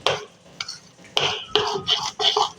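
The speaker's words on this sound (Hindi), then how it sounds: "इसको अच्छे से मिक्स करूंगी मैं" Spoon stirring and scraping moong dal batter with baking soda in a bowl, a run of close, crisp clinks and scrapes in an uneven rhythm, with no talking.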